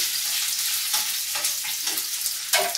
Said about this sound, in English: I'm putting something frozen into warm or hot oil